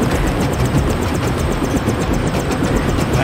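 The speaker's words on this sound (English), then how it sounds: "Take the helicopter back to base." In the video game Deus Ex, a waiting helicopter gives off a loud, steady rotor and engine drone with a rapid chopping pulse, no voices over it.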